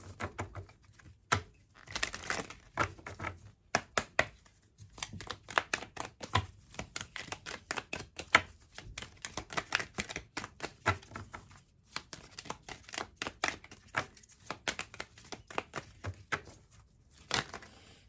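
Oracle cards being shuffled and drawn by hand, a quiet, close run of irregular snapping and flicking clicks that continues for much of the stretch, with no talking.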